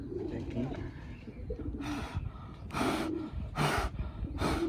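Pigeons being dyed with colour make low cooing and breathy snorts close by, broken by four loud, rhythmic bursts of rushing noise, while people talk over them.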